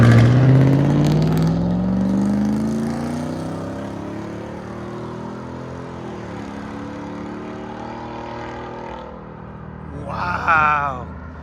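A 2024 Ford F-350 SXT with a 6.8L V8, X-pipe and straight pipes lets out a loud, deep exhaust rev that gradually winds down into a rumbling idle. A short higher-pitched burst follows near the end.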